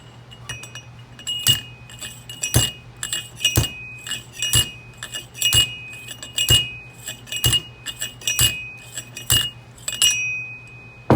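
Metal rings slide onto a Harley fork cartridge during a rebuild: a string of about a dozen sharp metallic clinks and chinks at irregular intervals, close and clear over a faint steady hum, no speech.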